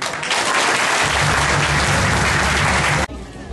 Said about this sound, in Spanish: yo quiero un aplauso para él.